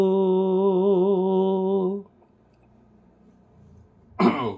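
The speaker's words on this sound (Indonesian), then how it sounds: "Maaf ya, saya agak batuk." A sustained sung tone during a number-notation singing lesson breaks off into near silence, then one close, harsh cough lands near the end.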